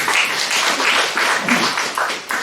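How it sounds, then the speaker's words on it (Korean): A church congregation claps together in a dense, steady round of applause that fills the space evenly from start to finish. "네, 박수 한번 쳐주세요."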